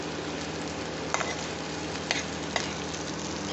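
Mashed cabbage sautéing in a pan gives a steady, close sizzle with a few soft stirring clicks, and no one speaks.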